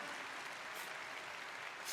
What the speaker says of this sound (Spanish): Un estruendoso aplauso.